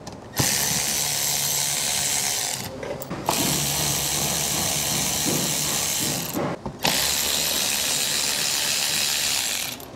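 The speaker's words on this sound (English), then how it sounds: "Just remove the bolts at the bottom of the bumper." Ratchet working loose the lower bumper bolts on a 2021 Porsche Cayenne, with three long bursts of rapid clicking separated by short pauses, close by and alone.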